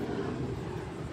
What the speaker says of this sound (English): we're by a base, so you're gonna hear a plane or two